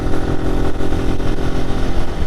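A Zontes G1X 125cc motorcycle engine with about 30,000 km on it runs steadily up close, a loud throbbing rumble with slight fluctuations in pitch, no voices.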